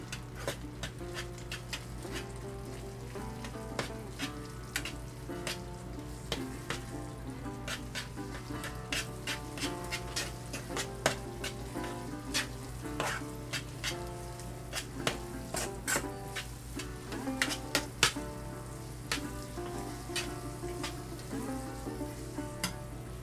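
A roux for South Texas style turtle soup sizzles steadily in a pot while a utensil stirs it, scraping and clicking in an irregular rhythm over the constant frying hiss, close and with no speech.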